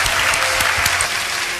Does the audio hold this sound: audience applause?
yes